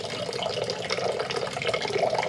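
A steady stream of water and vinegar cleaning mixture drained from a bottom-loading water cooler, pouring and splashing into a drain, continuous and fairly close, with no voices.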